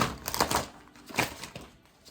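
Tarot cards shuffled by hand during a reading, giving soft papery riffles and crinkly slaps in uneven bursts, close and fairly quiet with no talk.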